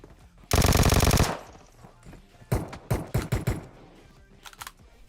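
Automatic gun in PUBG Mobile fires one long, loud burst, then several shorter bursts of shots follow, with quieter clicks and taps in between.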